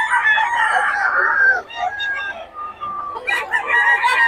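Roosters crow and cluck together at close range, with repeated high, drawn-out calls layered over one another and filling the whole stretch.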